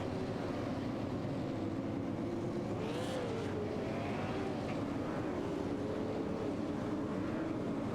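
Outlaw super late model race cars roar around the oval track at Richmond in a continuous engine din, with a car sweeping past around the middle, heard at a distance amid crowd-level noise.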